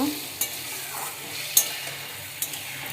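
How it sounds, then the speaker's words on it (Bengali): A pan of eggplant curry in mustard paste is stirred as it fries, a soft steady sizzle with a few light scrapes and clicks of the spoon against the pan, close and fairly quiet. "তো এবার ভালো করে নাড়াচাড়া করে নেব"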